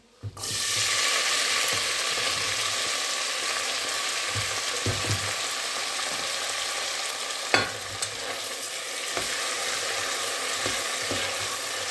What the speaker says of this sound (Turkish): Biraz kavuruyoruz. İyice kavurdum.